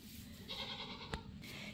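Newborn baby goat bleating at a birth, a single drawn-out bleat at close range, fairly faint, with a brief click partway through.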